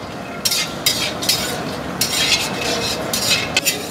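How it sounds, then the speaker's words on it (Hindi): Cashews roasting in a pan for vermicelli kheer, with a steady low sizzle broken by repeated scraping stirs of a spoon against the pan at a moderate, uneven rhythm, close and with no voices. "तो इसको थोड़ा कैसनट को अच्छा से रोस्ट कर लेंगे।"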